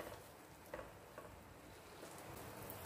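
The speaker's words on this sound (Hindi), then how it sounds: "बटर नूं असी मेल्ट होण दिंदे आ।" Butter melting in a frying pan over a gas flame for a white pasta sauce, giving a faint, steady low sizzle and crackle throughout with no voices.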